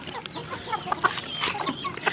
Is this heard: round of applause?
no